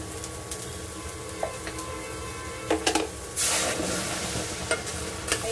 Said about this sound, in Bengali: এইবার ডালটা দিয়ে দেবো